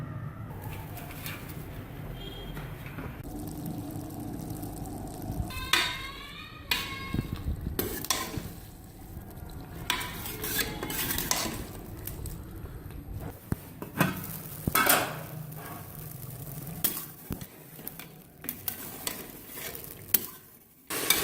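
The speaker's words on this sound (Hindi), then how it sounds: "अब मैं इसे चूल्हे पे रख के इसको भूनूंगी।" Meat and spices fry and sizzle steadily in oil on a stove, with occasional stirring scrapes and clatter, birds cooing faintly in the background.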